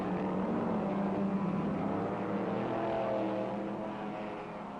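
Race cars on the opening lap of the 1962 Players 200 at Mosport, a steady blended engine roar heard at a distance that slowly fades toward the end.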